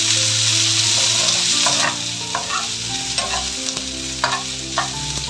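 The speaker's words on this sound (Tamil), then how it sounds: "இப்போ இது வந்து வெண்டைக்காய் போட போகிறேன்." Okra frying in hot oil with browned urad dal, onion and curry leaves, a loud continuous sizzle broken by stirring scrapes and clinks of a spoon against the pan.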